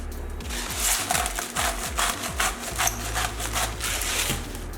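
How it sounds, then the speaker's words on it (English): A hand grinder cranks out seasoning over chicken, giving a close run of gritty, rasping turns that repeat in quick rhythmic strokes. "Three or 4 turns if you have a grinder."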